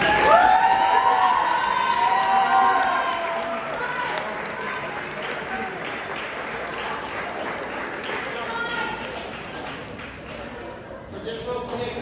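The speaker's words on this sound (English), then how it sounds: "Applause." At a school sports banquet, a crowd cheers and whoops over applause for a junior varsity team; the shouting is loudest at the start, then settles into steady clapping, with talk returning near the end.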